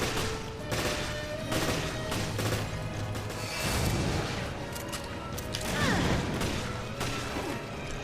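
Machine gun fire in Resident Evil Revelations, a dense continuous rattle of bursts lasting several seconds, layered with game crashes, mechanical clanks and booms, loud and close with no talking.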